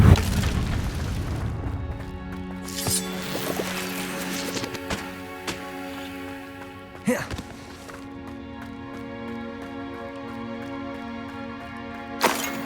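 In the video game Hogwarts Legacy, the Confringo fire spell is cast and explodes with a sharp booming blast, followed by a ringing magical shimmer and a few more impacts over a sustained musical drone.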